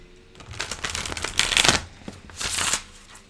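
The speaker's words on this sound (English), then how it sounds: "these do shuffle very nicely for large cards" Large tarot cards shuffled by hand, giving quick riffling bursts of papery flutter and soft slaps in uneven clusters, close and clear with no talking.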